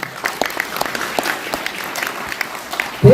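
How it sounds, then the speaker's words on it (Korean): Scattered applause from an audience at a book launch and book concert in Daegu: light, uneven claps at moderate distance that build briefly near the end. "큰 박수 부탁을 드리겠습니다"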